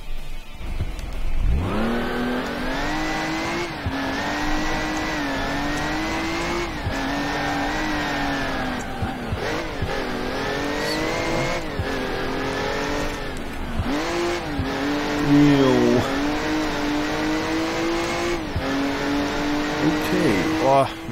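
Car engine in the German racing game Alarm für Cobra 11 Burning Wheels, revving steadily through repeated gear shifts while driving, with brief tire noise, and a voice talking over it at times.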